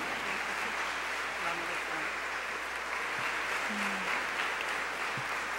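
A large congregation applauds to welcome Mother Tynetta Muhammad, with a continuous, moderately distant wash of clapping and faint murmurs and cheers mixed in.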